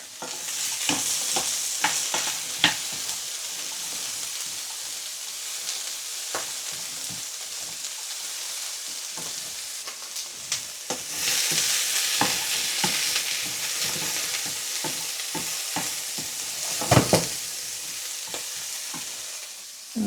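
Carrots sizzle steadily in a hot pan for chili con carne while a utensil stirs and scrapes, clattering now and then over the constant frying hiss.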